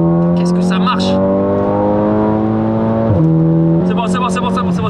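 A tuned 540 hp Volkswagen Passat police car with a big turbo accelerates hard, its engine droning loud and steady with rising pitch and a brief dip at a gear change, while people talk over it.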